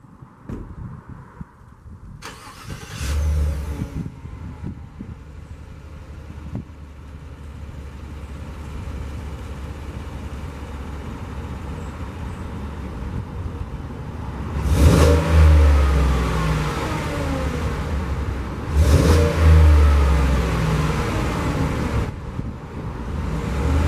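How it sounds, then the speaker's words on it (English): A 2020 Chevy Suburban's engine idles quietly, then revs in several throttle blips with rising roar and exhaust note, two strong bursts in the latter half, heard up close with no talking. "let's get a quick look at the exhaust note of this vehicle"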